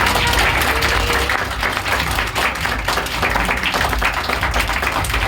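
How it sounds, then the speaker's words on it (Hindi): Loud, energetic applause from a school audience cheering for their teachers on Teachers' Day, with sharp individual claps standing out in a close, lively crowd. "अपने टीचर्स के लिए आप लोग जोरदार तालियां मारिए"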